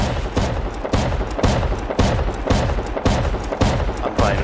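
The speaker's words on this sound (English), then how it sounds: "Oh, he's on the shotgun trap." Shotgun trap in the video game Rust firing again and again, a loud, close string of evenly spaced heavy blasts, about eight in all.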